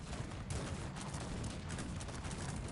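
A cannon volley in the strategy game Cossacks 3 pounds an army of pikemen and siege units, a dense, continuous barrage of overlapping booms and crackling blasts that stays loud and busy for the whole stretch with no pauses.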